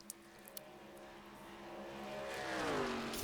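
Stock cars in an iRacing simulator event at Chicagoland, engine tones rising and sweeping upward as cars accelerate nearer, growing louder toward the end, with no talk over it.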